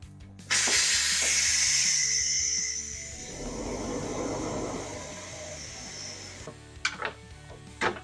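A pressure cooker full of pulled pork carnitas vents steam in a loud, steady hiss that gradually fades into a softer rushing, followed by a few faint clicks and knocks.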